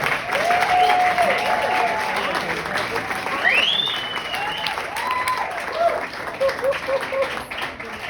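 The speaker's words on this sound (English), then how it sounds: "they can keep clapping till I get up there" Audience applause for a storyteller at a live storytelling evening, a broad continuous clatter of many hands with voices and a speaker's talk riding over it.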